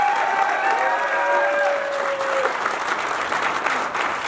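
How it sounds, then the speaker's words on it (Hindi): An audience at a network marketing business event claps steadily and loudly, with a brief cheer near the start, sustained for several seconds. "एक बार जोरदार तालियां होनी चाहिए"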